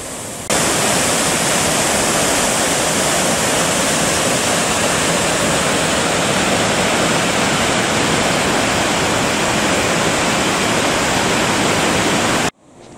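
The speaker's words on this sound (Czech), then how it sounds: "Vodopád Oxarárfos na řece Oxará je 13 metrů vysoký a má průměrnou" Öxarárfoss, a 13-metre waterfall about 6 metres wide on the Öxará river in Iceland, roars as a loud, steady rush of falling water that runs unbroken for about twelve seconds before cutting off abruptly.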